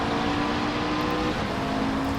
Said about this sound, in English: back out onto the racetrack once again in the McLaren 650S GT3